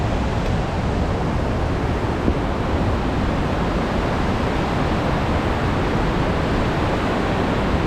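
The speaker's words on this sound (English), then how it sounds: "We kept down the trail and we have found the mother waterfall." A large waterfall on a park trail near Syracuse roars as a loud, steady, broadband rush of falling water, unbroken and close throughout.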